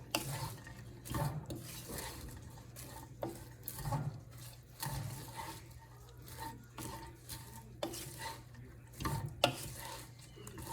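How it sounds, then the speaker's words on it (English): Cabbage lumpia filling being stirred in a pan without oil, soft scraping and clattering spoon strokes in irregular bursts, close but quiet, with no sizzle to speak of. "You're just gonna mix till everything comes together."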